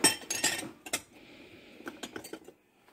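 Cherry glassware clinks and taps while being handled, with several sharp close chinks in quick succession, a brief faint ringing tone, then scattered lighter knocks trailing off.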